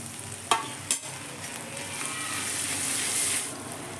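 Ginger paste sizzles in hot oil with fried onion and garlic, a steady close hiss broken early by two sharp clicks as the paste goes in and is stirred.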